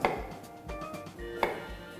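A knife slices oyster mushrooms on a cutting board for a vegetarian dish: two sharp, quiet cuts about a second and a half apart, with soft handling noise between them and no talk.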